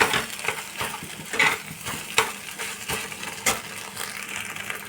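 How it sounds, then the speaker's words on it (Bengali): Scrambled egg bhujia cooks in oil in a frying pan over low heat, with a soft, continuous sizzle broken by close, irregular scrapes and taps of a utensil stirring against the pan; no one speaks. "আমি এইভাবে ডিমের ভুজিয়াটা করে নেব, ঝুরি ভাজাটা করে নেব"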